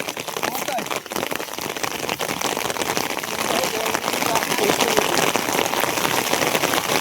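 Steady rain falling on a riverbank, a dense continuous patter of drops that stays close and loud throughout, with no speech.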